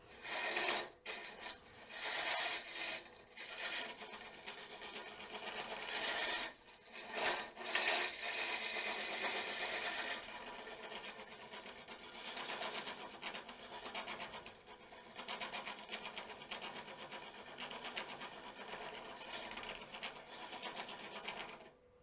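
Wood spins on a woodturning lathe while a Pro Forme Flexi hollowing tool cuts into it. The result is a continuous gritty scraping whir, close and even, with a few short dips early on where the cut eases. No talk.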